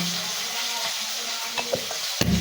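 Hot oil sizzles steadily as fish fries, with a few clinks and scrapes of a utensil near the end.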